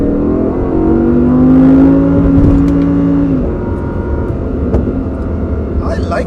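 A 2021 Audi R8 engine in sport mode rises in pitch as it accelerates, a loud sustained tone that peaks and then eases back into a steady cabin rumble, with voices talking over it.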